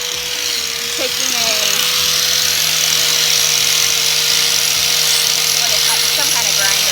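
A power grinder beveling the edge of Hydro Turf foam padding gives a steady, high-pitched motor whine that runs throughout, with a person talking over it.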